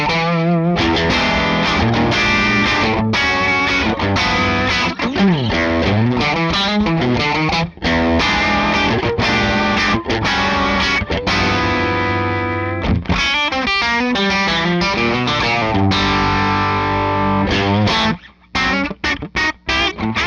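Stratocaster bridge pickup driven through a Soldano SLO30 amp with the gain turned up: a loud, distorted electric guitar playing fast riffs and sustained chords continuously, with a few brief stops near the end.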